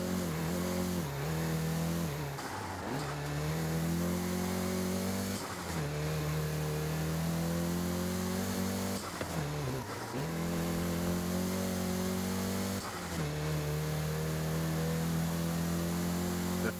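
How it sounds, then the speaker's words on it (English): Volkswagen Golf GTI engine in Forza Horizon 5 hums steadily and loud, rising in pitch through the gears with brief dips at each shift, with no talk over it. "including the Golf GTI you're driving right now."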